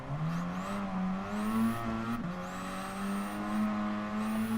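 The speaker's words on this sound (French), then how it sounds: "un petit sifflement quand on accélère. C'est le turbo qui s'enclenche." A race car engine in GT Sport revs as it accelerates through the gears, its rising drone joined by a thin, high turbo whistle that sweeps upward several times, steady and fairly loud with no talk.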